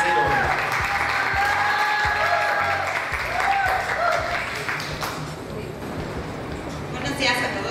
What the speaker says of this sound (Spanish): Fuerte el aplauso y muchísimas felicidades a Rosalía Cerón.